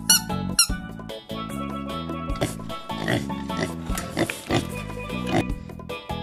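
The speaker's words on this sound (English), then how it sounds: "Pig." A pig oinks and squeals in repeated short grunts and high squeaks, loud and close, set against background music.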